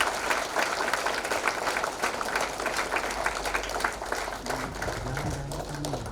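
An audience at a Christian fasting prayer gathering in Ranchi claps to welcome a speaker, steady rapid applause filling the room for several seconds, with a faint voice or tone creeping in near the end.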